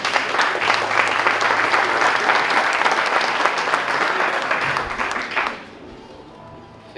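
An audience at the Catad'Or Ancestral Wine Awards 2019 ceremony applauds loudly in a dense, sustained burst of clapping lasting several seconds before cutting off abruptly.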